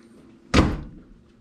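A single solid thud of a microwave door swinging shut, close and fairly loud, with a short rattle trailing off in a quiet room.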